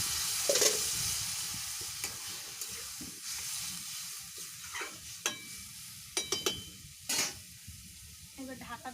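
Water goes into a pan of salted, turmeric-spiced food, raising a soft sizzle while a spoon scrapes and stirs in several sharp, irregular knocks and clatters, close by and without talk.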